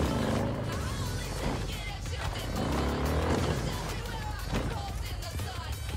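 A car drives in the video game Cyberpunk 2077, a steady engine and road roar underneath someone talking over it, with brief swells as the car moves.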